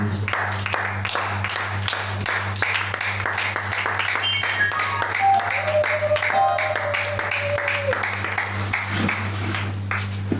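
A church congregation applauds in praise, a steady wash of clapping running through the whole stretch beneath a constant low hum, with a few sustained tones drifting overhead.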